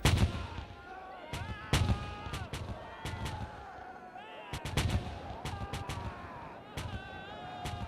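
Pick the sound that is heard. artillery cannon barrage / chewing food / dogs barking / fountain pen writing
artillery cannon barrage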